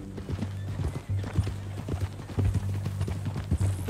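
Horse hooves clip-clopping at a steady walking rhythm in Red Dead Redemption 2, close and fairly loud over a low ambient hum, with no talk.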